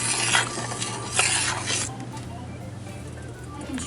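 A spoon stirs fig preserves in a pot heading to a rolling boil, with a few scraping strokes early on that settle into a soft, steady bubbling simmer close by.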